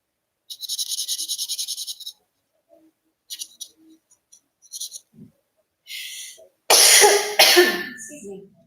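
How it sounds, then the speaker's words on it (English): Several short, harsh coughs from a person nearby, loud and clustered near the end after quieter scratchy sounds, with no talking over them. "I'm just fine, but this cough won't go away."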